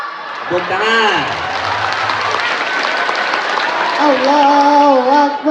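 An Isra Miraj gathering breaks into applause, a full crowd of clapping mixed with raised voices and sustained chanting tones that rise over the clapping toward the end.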